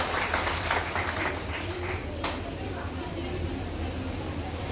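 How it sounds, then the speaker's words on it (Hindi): An audience applauds a police superintendent at an awards ceremony in Jehanabad, a dense, loud wash of clapping that fades somewhat toward the end. "एक जोरदार तालियां सर के लिए"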